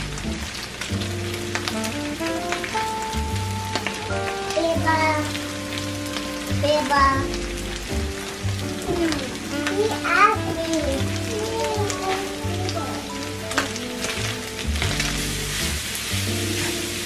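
Browned meat and coleslaw mix sizzle in a pan with a steady, moderate hiss, while people talk over it and music plays throughout.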